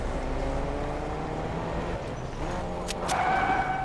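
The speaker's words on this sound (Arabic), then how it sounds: "اطلع بالسيارة بسرعة" A car drives in the video game Fortnite, a continuous engine rumble at steady speed with a couple of brief high blips near the end, and no speech.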